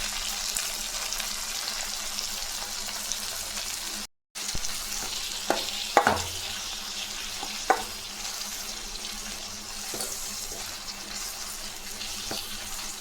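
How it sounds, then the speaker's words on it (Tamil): Drumstick leaves sauté in a hot pan for a thuvaiyal, giving a steady close sizzle throughout, with occasional sharp scrapes and taps of a stirring spoon against the pan. "நல்லா எல்லாம் நல்லா வதங்கட்டும்"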